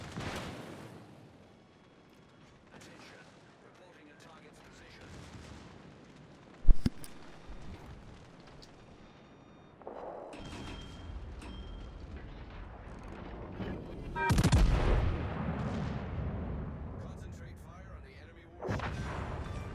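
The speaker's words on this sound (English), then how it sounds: "I'm using battleship guns" Battleship guns firing in World of Warships, heard as a sharp boom partway through and a heavier rumbling salvo later, with quiet talk between the shots.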